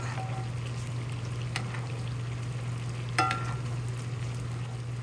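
A steak sizzles in a cast iron skillet as melted butter is spooned over it. The frying hiss is steady and close, with a low hum underneath and a couple of brief metallic scrapes or clinks.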